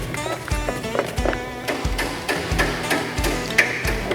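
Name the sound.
hammer tapping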